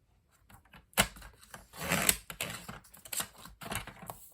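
Paper is cut for decorated sticky notes in uneven bursts of crisp scraping and slicing, some strokes longer and louder than others, close by and quiet with no talking.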